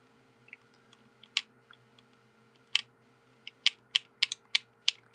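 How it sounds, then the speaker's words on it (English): Clicky buttons pressed on a custom-built Game Boy Advance, sharp isolated clicks, a few scattered at first, then a quicker run of distinct presses near the end, close and clear against quiet. "Clicky buttons."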